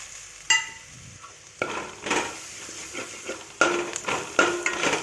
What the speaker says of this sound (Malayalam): അതൊന്ന് ഒരു മിനിറ്റ് ഈ എണ്ണയിലിട്ടൊന്ന് മൂപ്പിക്കണം